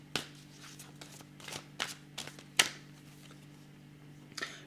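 Tarot cards are laid out and shuffled on a table in a series of soft, quick slaps and flicks, close and faint, with a low steady hum underneath.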